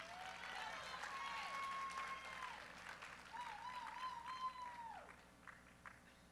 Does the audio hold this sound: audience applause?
yes